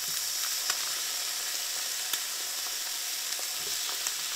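Eggs fry in a pan with a steady, soft sizzle and occasional small pops and crackles, close and fairly quiet, with no voices.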